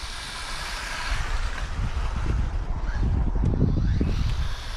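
An HPI Maverick Desert Truck, a 1/20 scale RC car, runs flat out at full throttle: a continuous buzzing electric motor whine and rumble that grows louder and nearer, with wind buffeting the microphone.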